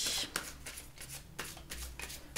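Playing cards are shuffled up close for a card trick, giving soft riffling and brushing bursts in a quick, uneven rhythm, clear against a quiet background.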